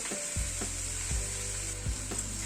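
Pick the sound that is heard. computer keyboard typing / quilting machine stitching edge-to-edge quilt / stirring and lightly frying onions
stirring and lightly frying onions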